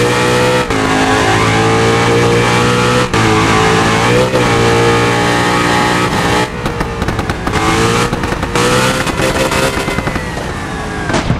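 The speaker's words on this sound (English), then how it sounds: "Ford Mustang" A Ford Mustang in the BeamNG Drive game roars with loud, sustained engine revving. The pitch climbs and dips with acceleration, and sharp bangs or impacts punctuate it along the way.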